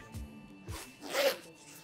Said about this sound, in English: You have the Velcro and also the zipper.